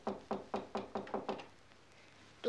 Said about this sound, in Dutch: Op een dag werd er op de deur geklopt toen Sneeuwwitje alleen thuis was.